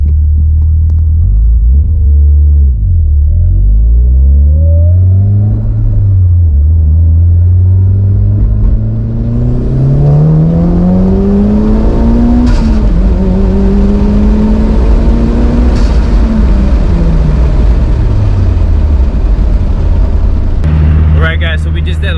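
A Mitsubishi Evo 8 on its stock turbo roars through a full-throttle dyno pull, the engine note climbing steadily in pitch as revs build, then dropping back to a loud rumbling idle, with a voice speaking over it.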